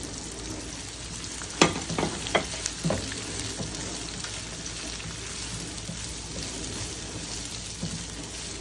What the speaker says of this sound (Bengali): আমি বেল পেপারগুলো অ্যাড করে আমি 1 মিনিট সতে করব।